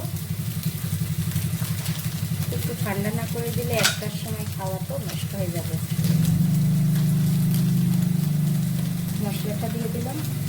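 Eggs sizzle and fry steadily in a pan as they are stirred for pasta, a continuous close crackle with a low rumbling hum underneath and a few sharper scrapes of the utensil.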